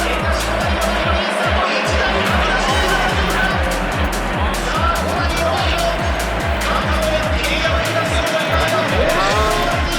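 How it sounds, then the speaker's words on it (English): Ferrari Challenge race cars accelerating together off a rolling start, engines roaring loud and close with rapid gear-shift pulses and passing sweeps, continuous throughout while a commentator's voice runs underneath. "here we go with a rolling start for the race"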